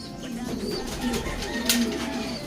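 Pigeons in a breeding loft coo softly and repeatedly at close range, with low rounded calls recurring over a faint background hum.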